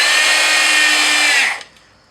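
A power drill drives 3-inch exterior screws into wood, one loud continuous whir up close for about a second and a half before winding down and stopping.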